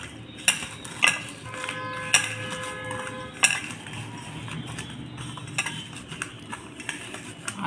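Fried chilies are mashed with salt by hand for a brinjal chop filling, giving soft squelching and pressing sounds with several sharp clinks of metal against a plate or bowl, fairly quiet and close.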